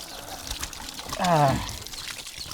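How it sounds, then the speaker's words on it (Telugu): Water is poured over hands during washing, a brief gurgling splash that swells and fades in about a second against quiet background noise. "మన చేతులు అయితే చక్కగా కడుక్కోవాలన్నమాట"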